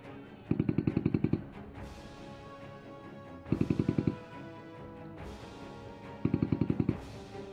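Bursts of rapid gunfire during an army battle demonstration, three loud staccato volleys spaced a few seconds apart, each followed by echoing crashes, with no talking.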